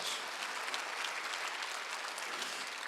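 A church congregation claps steadily during a Sunday worship service, soft and diffuse and somewhat distant, ending in a sharp louder burst.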